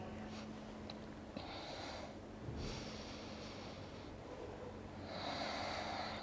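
Someone takes slow breaths while holding a quad and hip stretch during a mobility routine. Several soft nasal inhales and exhales come at uneven intervals, quiet and close, over a low steady hum.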